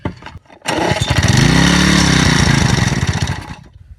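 A lawnmower engine fed dirt into its carburetor during a durability test roars up loud and close, its pitch rising and wavering, then sputters and dies away.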